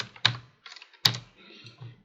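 A computer keyboard is typed on close by, with a few distinct sharp keystrokes and softer taps spread unevenly over two seconds in a quiet room.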